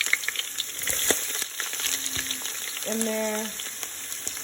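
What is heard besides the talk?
onion frying in hot oil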